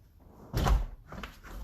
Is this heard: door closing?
yes